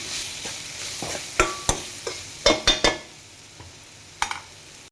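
Spice powder stirred into rasam, a thin South Indian soup, in a pot: a soft sizzling liquid bed under a handful of crisp spoon knocks against the pot, some in quick succession, then a final clink.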